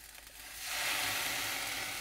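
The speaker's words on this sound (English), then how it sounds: "I do know how to put white wine vinegar in the pan" White wine vinegar hits a hot pan while making a soup, bursting into a loud, steady sizzle that swells after a quiet start and holds to the end.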